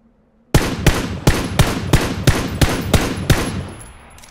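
A rapid burst of about nine loud, evenly spaced gunshots from a weapon in the PUBG battle royale game on a foggy map. The shots are close and punchy, with a short fading tail after the last one and no voices.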